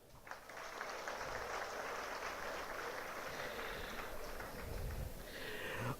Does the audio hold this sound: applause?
yes